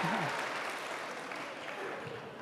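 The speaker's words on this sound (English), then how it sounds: "We clap for ourselves." University lecture audience applauding themselves, a short burst of clapping from a hall crowd, fairly faint and distant, with a voice speaking briefly over the start.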